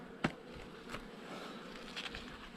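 Honey bees buzz faintly at an open hive during the honey harvest, a soft continuous drone with a few sharper ticks and knocks close by.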